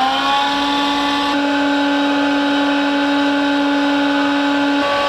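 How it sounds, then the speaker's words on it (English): A 550 watt induction motor on a dust extractor hums loudly and steadily, with a strong tonal drone and a slight shift partway as it settles, running alone up close. "Turn on the 550 watt induction motor here for my extractor."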